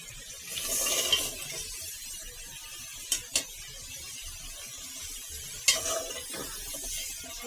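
Vegetables and potatoes go into a pan of spiced masala for a spicy fish-and-potato curry, giving a soft, faint sizzle with occasional stirring clinks and scrapes in a quiet kitchen.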